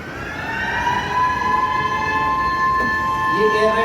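An air raid siren during a mock drill holds a steady, sustained high wail across the whole stretch, loud and continuous, with faint background noise beneath it.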